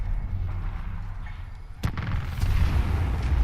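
A single rocket impact from Titanfall 2 gameplay lands as one sharp broadband crack near the middle, followed by a rumbling, louder wash of noise over constant low engine-like background.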